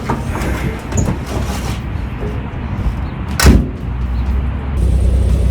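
Steady broadband road and wind rumble from a car cruising on a highway on a breezy day, with a brief louder whoosh partway through, heard from inside without talk.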